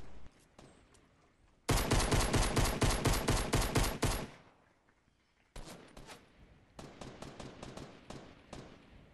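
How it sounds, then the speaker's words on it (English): Rapid automatic gunfire in Fortnite as a player shoots at walls: a long sustained burst, a short pause, then several quicker volleys, loud and sharp. "Keep shooting the walls."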